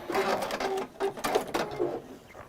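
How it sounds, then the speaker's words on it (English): A domestic sewing machine stitching down the side of a fabric piece, a fast mechanical whirring in short runs with brief stops, close and clear. "what we're going to do is sew down that side along"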